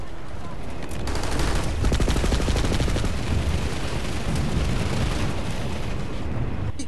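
Dense, loud gunfire from the Planetside 2 video game, rapid automatic bursts and overlapping shots rattling continuously at close range.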